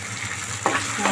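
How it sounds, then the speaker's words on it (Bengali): Spice paste of coriander powder, garam masala and salt frying in oil for a spicy rohu fish curry, a steady close sizzle with a few brief scraping stirs near the end. "এখন মশলাগুলো কষিয়ে নেব।"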